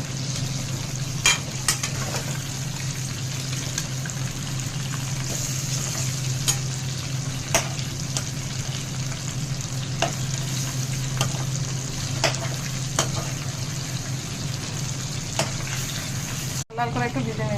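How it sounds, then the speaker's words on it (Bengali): Chicken for biryani fries in a pan until reddish, with a steady, close sizzle and occasional stirring clatter running under a voice that talks throughout. "লাল করে একটু ভেজে নিচ্ছি"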